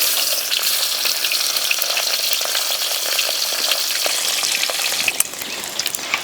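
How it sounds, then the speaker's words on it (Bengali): Belly pieces of katla fish fry in oil in a pan, a steady, loud hissing sizzle with scattered crackles and a few sharper pops near the end, alone without voices. "এবার পেটির পিসগুলো ভেজে নেব।"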